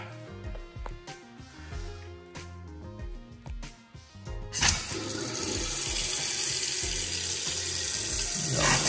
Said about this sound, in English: let's turn the water on and see from the top